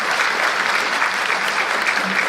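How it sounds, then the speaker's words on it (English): An audience at a college event in Española, New Mexico applauds before the governor is introduced: thick, continuous clapping from many people, even and loud across the whole stretch. "Let's get that and see a lot of applause"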